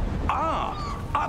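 Two harsh, wavering gull-like cries in a Hogwarts Legacy game scene, the first longer and sweeping, the second short, standing out clearly over a low steady ambient hum.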